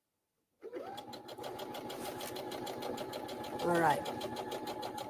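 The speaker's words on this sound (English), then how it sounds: "then we sew those together" A sewing machine stitches quilt blocks together in a steady, continuous mechanical whir with a fast rhythmic needle chatter, running close and clear while a person speaks briefly over it.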